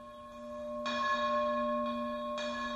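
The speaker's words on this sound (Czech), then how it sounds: "Zvon svým daleko slyšitelným hlasem svolával ráno horníky do práce, večer z ní propouštěl" An old miners' belfry bell rings out with steady, sustained tones, struck twice more at intervals so fresh strikes swell over a lingering hum; no voices.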